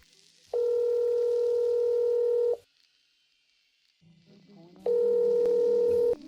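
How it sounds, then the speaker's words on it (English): Two long, steady ringback tones sound loudly, separated by a short quiet pause, like a phone ringing on the line. "Until one night, Daniel received a phone call"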